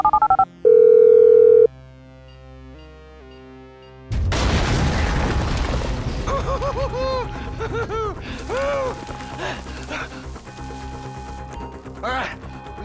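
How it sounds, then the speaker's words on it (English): Phone dialing in Grand Theft Auto V during a bank robbery mission: a steady dial tone and short tonal beeps, then a loud burst and busy game music and effects. "I'm making the call."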